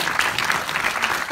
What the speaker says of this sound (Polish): Tu też chyba należą się oklaski.